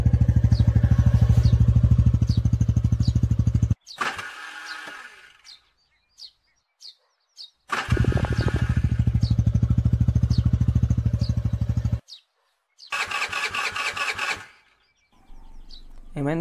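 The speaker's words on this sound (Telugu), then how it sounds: "bike trouble ఇచ్చినట్టుంది" A motorcycle engine struggles to start, running loudly, then cutting out into sputters and silence before catching again and dying once more, with faint bird chirps in the gaps.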